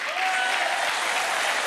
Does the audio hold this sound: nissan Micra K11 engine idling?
no